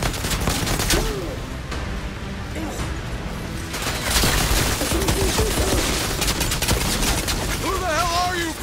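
Dense bursts of gunfire crackle nonstop through a battle in the video game Outriders, loud and close, with shouted voices breaking in over the shooting.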